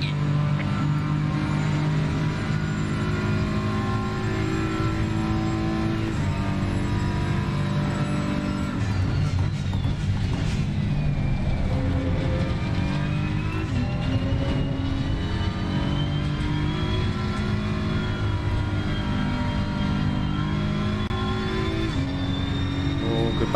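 BMW M4 GT3 engine in the ACC racing game at Barcelona, a loud, steady harmonic drone that shifts pitch through gear changes and braking mid-lap, continuous without talk.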